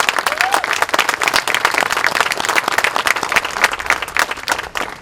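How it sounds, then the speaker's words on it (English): Outdoor crowd at a Memorial Day remembrance ceremony applauds veterans, a dense, steady patter of many hands clapping throughout, with a few voices mixed in. "Let's give them all a round of applause."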